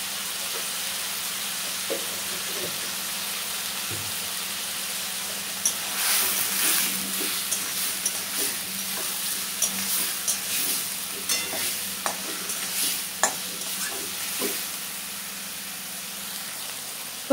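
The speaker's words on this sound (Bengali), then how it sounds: "তো বন্ধুরা আলুগুলো একটু কষা কষা হয়ে গেছে" Potatoes cooking with tomato and turmeric in a pan, a steady close sizzle with the scrape and clatter of a spatula stirring through them, with no one speaking.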